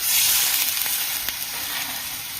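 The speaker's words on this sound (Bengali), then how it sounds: "বাটিটা ধুয়ে আমি জলটা দিয়ে দিচ্ছি" Water poured into a hot pan while cooking a curry of fish roe fritters, a loud, steady hissing sizzle heard close up and alone.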